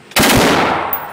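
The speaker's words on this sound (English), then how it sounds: "This is the M4 here. Full auto." An M4 rifle fired full auto at the Discount Firearms range in Las Vegas. One loud, close, sharp burst of rapid shots cracks out of near silence and rings off into a decaying tail within about a second.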